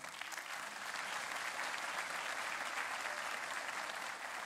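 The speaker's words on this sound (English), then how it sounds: "please give them a round of applause" Audience applause for the awards committee at a Brevard County Sheriff awards ceremony, a dense, even roar of clapping that holds steady from start to finish with no voice over it.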